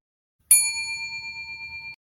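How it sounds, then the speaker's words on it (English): A single bright notification bell ding, struck once with a sharp onset and then ringing in a clear, shimmering tone that fades over about a second and a half, alone in silence. "be sure to subscribe and ring that bell"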